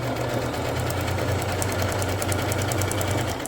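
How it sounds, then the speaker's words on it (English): A sewing machine stitches a tuxedo pocket with a steady, close mechanical whir and rapid, regular ticking of the needle that runs unbroken throughout. "I do need to sew that pocket up"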